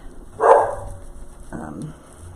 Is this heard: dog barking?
yes